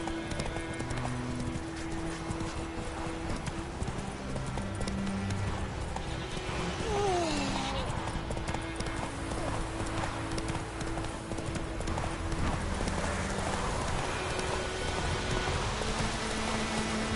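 Roach the horse in Witcher 3 clip-clops along at a steady walking pace, hoofbeats close and continuous over a soft rain-like ambience, with a faint whinny partway through.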